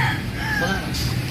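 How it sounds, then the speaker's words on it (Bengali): A Bangladeshi rooster crows once nearby, a loud drawn-out call over a busy outdoor background with other birds audible. "বাংলাদেশি মোরগ। ওনারা এগুলো পালে এখানে।"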